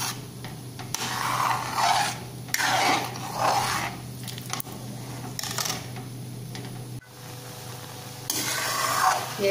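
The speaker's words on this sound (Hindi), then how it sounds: "दूध को धीरे धीरे चलाते रहेंगे, नहीं तो ये नीचे से जल जाएगा।" A spoon scrapes and rubs along the bottom of a pan of thickening milk for carrot halwa, in slow repeated strokes that come in bursts with short pauses, close and clear with no talking.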